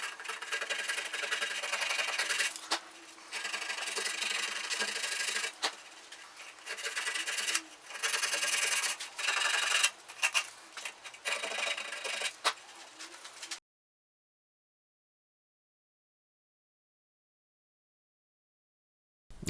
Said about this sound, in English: And finally, just giving it a bit of a sand.